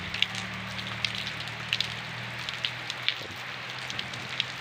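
Rain falls beside rice fields in a soft, steady patter with sharp scattered drips close by, over a low constant hum.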